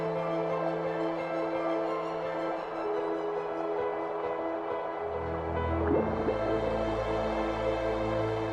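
Fast-flowing alpine stream in Germany, a steady broadband rush of water over rocks and pebbles, with a deeper gurgling swell near the end.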